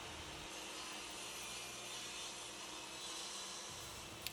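A table saw makes the final cut through a wooden crosscut sled, a steady whining, rasping drone that holds for several seconds before ending with a small knock.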